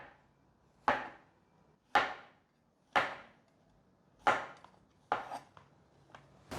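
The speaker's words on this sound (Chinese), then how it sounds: "先给蘑菇切片。" A knife cuts through fresh shiitake mushrooms on a board in five or six crisp, evenly spaced chops, close and distinct against a quiet kitchen background.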